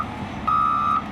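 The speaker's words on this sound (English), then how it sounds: "the backup alarm must be operational and loud enough for" A front end loader's backup alarm gives a single loud, steady electronic beep lasting about half a second, close by over low engine rumble.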